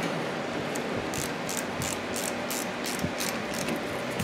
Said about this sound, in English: you tighten up the bolt, that 14 millimeter in the back, you tighten it up and then you snug it down